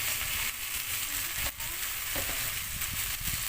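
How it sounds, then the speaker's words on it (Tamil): Coconut, tomato and onion masala frying with chili powder for a fish kulambu, a steady close sizzle with stirring scrapes and a brief break partway through. "தக்காளி வெங்காயம்லாம் வதங்கிடுச்சு. இப்போ மிளகாய் தூள் சேர்க்குறேன்."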